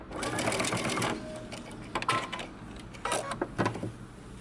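A sewing machine runs a seam down the side of a button-up shirt in a long continuous burst, then stops and restarts in shorter runs, close and fairly loud.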